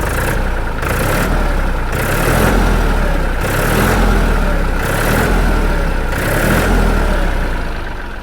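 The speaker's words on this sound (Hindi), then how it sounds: "तो न्यू हॉलैंड कंपनी का ट्रैक्टर है, काफ़ी अच्छी बुलंद आवाज़ आती है।" A New Holland 3037 TX four-cylinder 39 HP tractor engine runs loud and steady, its low diesel rumble rising and falling in repeated revving surges as the throttle is worked, with no voices over it.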